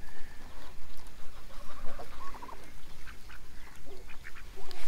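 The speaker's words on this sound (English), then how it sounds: "I hear Loki over there, way over yonder, crowing" A peafowl crows far off on a farm, faint and repeated, amid scattered clucks and quacks from other nearby fowl over a rough outdoor background.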